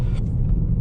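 Car driving slowly through corners on a slick, snowy winter road in a 50 zone, a steady loud low rumble of engine and tires heard from inside the cabin.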